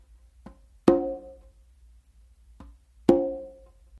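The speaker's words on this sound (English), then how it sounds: "you're going to do a tap, and after you do the tap with your dominant hand," Two pairs of conga strokes sound alone: each pair is a light, short tap followed by a louder, ringing open tone that decays over half a second, played as a melodic tumbao on four congas.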